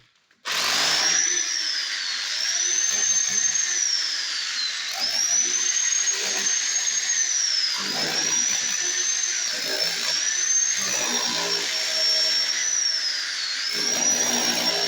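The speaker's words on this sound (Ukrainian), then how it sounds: "Сама процедура буріння, як ви бачите, відбувається майже без пилу." A rotary hammer with a chisel bit runs continuously at close range, a loud steady whine with repeated hammering pulses as it grinds into a concrete wall.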